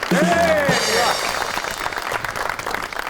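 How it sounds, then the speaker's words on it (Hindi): Applause and crowd noise from a TV talk show studio audience fill the room while a voice speaks over it at the start. "आपकी बहुत सी तालियों में एमपीए हैं मलिक मोहम्मद वहीद"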